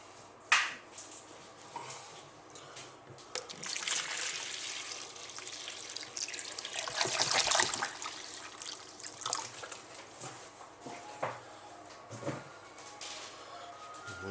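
Water pours and splashes steadily for several seconds, swelling louder in the middle, with small clinks and trickles around it.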